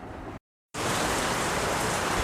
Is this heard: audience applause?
no